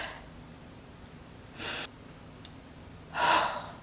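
Two deep breaths taken close to the microphone, a short inhale followed by a longer, fuller one with a pause between, with no talking.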